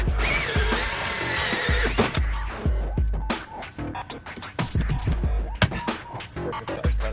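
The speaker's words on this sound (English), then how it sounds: "this hole saw here, the 20 millimeter spring-loaded hole saw, will change your life when mounting these switches" A 20 mm spring-loaded hole saw on a power drill cuts a mounting hole for switches, a loud whirring grind at first, then repeated short bursts of drilling with pauses and clunks between them.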